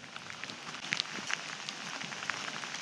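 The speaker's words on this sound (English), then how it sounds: "Look at the sheets of water." Heavy rain pours down outdoors during a gravel bike ride, a dense steady hiss with scattered sharper drops striking surfaces close by. No one speaks.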